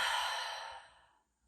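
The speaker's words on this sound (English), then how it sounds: "Open mouth, exhale." A deep, breathy exhale through an open mouth during a hot yoga class, close and audible, fading steadily over about a second into silence.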